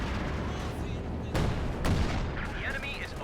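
Artillery barrage in Company of Heroes 2, with two sharp explosive blasts about half a second apart standing out from a dense wash of continuous battle noise and distant gunfire.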